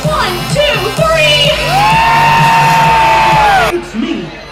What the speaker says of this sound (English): I wanna see the scream so loud